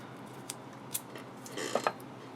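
Masking or duct tape being cut or torn during guitar wiring reassembly: a few faint, brief crackling bursts and a short ripping sound against a quiet room, with no talking.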